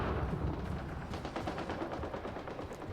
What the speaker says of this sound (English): I hear guns.